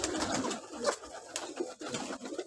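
Pigeons cooing while pecking at grain, soft low coos mixed with scratchy feeding noises and light rustling, fairly quiet and close, with no speech.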